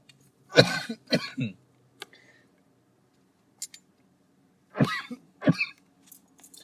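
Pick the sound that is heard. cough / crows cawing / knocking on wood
cough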